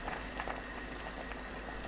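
A covered pot holding one litre of water and a piece of kelp boils steadily over high heat for a broth, giving a continuous close bubbling hiss with no voices.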